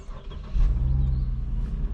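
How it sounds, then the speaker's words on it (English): A Mercedes-Benz SLK280 Sport's 3-litre V6 engine running, a steady, smooth low rumble that swells noticeably about halfway through and holds close and fairly loud. "one of the things I particularly like about this car is the noise it makes"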